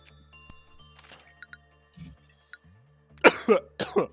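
A few sharp coughs close to the mic near the end, after faint clicks and small rustles in a quiet room.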